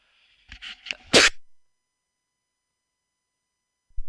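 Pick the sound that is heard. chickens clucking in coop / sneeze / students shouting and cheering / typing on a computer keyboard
sneeze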